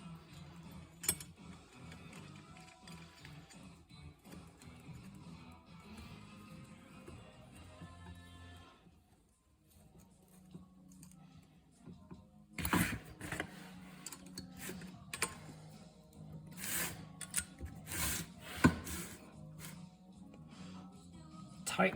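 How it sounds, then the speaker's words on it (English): A set screw is fitted back into the shifter of an Allis-Chalmers D-series or 100 series tractor, giving small metallic clicks and taps, quiet at first and then sharper, louder clusters of ticks toward the end. "Put our set screw back in here."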